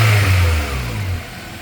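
A Honda Prelude V6 engine runs with a loud low throb that rises and eases, sounding revved near the start, then settles into a steadier mid-level running note with no voices.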